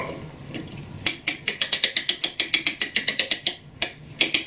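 An antique American Ansonia wall clock's mainspring is let down, and its ratchet gives a close, rapid series of sharp metallic clicks for about two and a half seconds, then a short pause and a couple more clicks.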